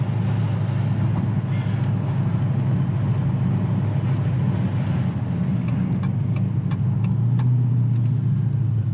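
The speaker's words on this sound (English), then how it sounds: "It sounds like a classic HEMI" A 392 Scat Pack 'Last Call' HEMI V8 drives along with a steady, deep engine rumble and road noise that stays loud and continuous inside the car, with faint clicking near the end.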